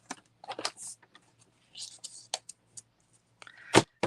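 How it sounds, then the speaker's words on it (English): Scissors trim something up close, giving scattered sharp snips and clicks with quiet pauses between them and a louder snip near the end. "I think I'm going to just trim them with my scissors"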